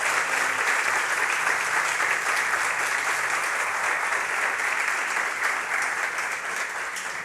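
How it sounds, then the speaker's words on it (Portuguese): A church congregation applauds loudly and steadily throughout a closing worship service, a dense wash of many hands clapping at even volume from start to finish, fading only slightly at the end. "Se você acredita nisso, você aplauda bem forte o nome dele."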